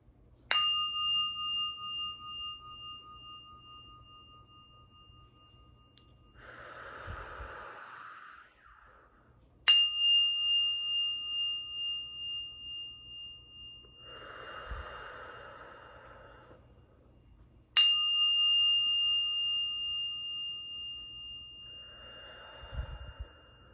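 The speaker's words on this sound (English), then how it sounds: "When you hear the bell, inhale. Allow the sound to flow and vibrate." A bell rings out three times at even intervals during a gentle yoga class, each strike clear and lingering as it slowly fades, with soft audible breaths drawn in and let out between the rings.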